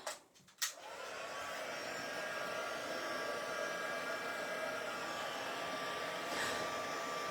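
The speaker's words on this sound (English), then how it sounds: "Let's see what happens when we use our heat gun and heat it up." A heat gun blows steadily up close for heat embossing on a card after a couple of brief clicks and handling knocks, a continuous airy whoosh.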